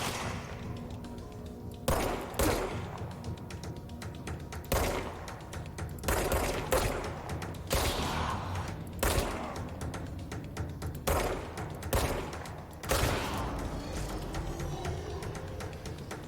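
Gunfire in the action video game Control: repeated bursts of shots and weapon impacts spread across the stretch, some rapid, over a steady game soundtrack bed with no talking.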